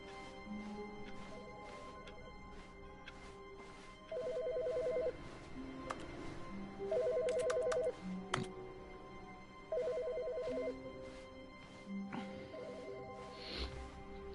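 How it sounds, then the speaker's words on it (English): A telephone rings in the video game The Stanley Parable, with four electronic ring bursts spaced a few seconds apart over a faint background hum. "I can't answer the phone."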